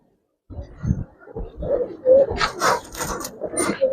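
Giribaz pigeons, including a female, coo softly nearby in a loft, low rounded calls in a broken rhythm with rustling and faint other sounds, some wing or body movement toward the end.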